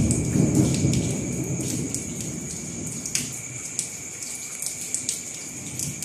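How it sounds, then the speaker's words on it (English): Steady rainfall patters down close by, with occasional low rumbles of thunder rolling in the distance and scattered heavier drips. "so rain starting again"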